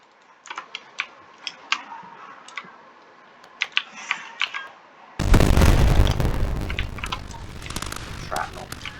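A bomb blast in the video game Warium: several sharp clicks come first, then a sudden loud explosion that keeps rumbling and crackling for a few seconds. No voices are heard.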